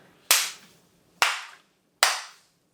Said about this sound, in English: I kind of want to do a clapping competition.